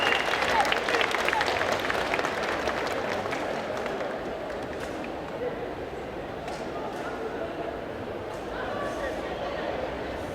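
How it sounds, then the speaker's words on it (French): Audience at a cosplay convention contest applauding, a dense burst of clapping that fades into a steady crowd murmur with a few lingering claps. "On l'applaudit très fort, s'il vous plaît."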